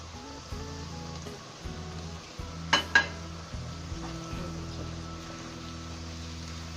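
Chatpati kaleji, a liver masala with tomato and onion, fries in oil in a pan, a soft continuous sizzle with a couple of sharp utensil clinks near the middle under faint background tones.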